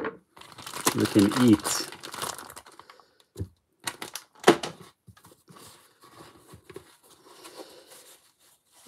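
Plastic packaging around fish and meat is crinkled and torn open, with bursts of close, crackling rustles and scattered sharp crinkles, and speech mixed in.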